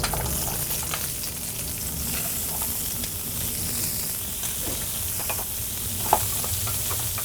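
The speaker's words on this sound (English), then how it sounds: "I'm going to put a little bit more oil in this pan. And then I'm going to put in my vegetables." Frozen carrots, broccoli and cauliflower sizzle steadily in an oiled pan for a chicken stir fry, a dense continuous crackle with a brief sharp pop near the end and no talking.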